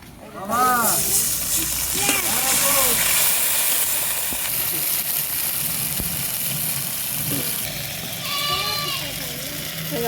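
Lightly fried onions hiss and sizzle in a pan as water is added, with a strong steady steam hiss over the whole stretch while someone talks near the start and end.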